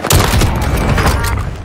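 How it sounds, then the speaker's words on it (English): Loud, boomy gunfire in a shooter video game: a heavy blast followed by sustained rumbling impacts, close and dominant, with no talking. "Did somebody just shoot me?"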